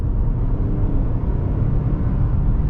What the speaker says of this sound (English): induction noises come in and the car just lurches you forward as it just takes off so nicely though.